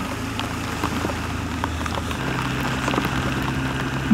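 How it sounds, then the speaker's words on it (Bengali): Heavy rain drumming down around a stopped Honda Hornet 2.0 motorcycle, a steady dense patter over a low idling hum, close and continuous. "তুমুল বৃষ্টি হচ্ছে।"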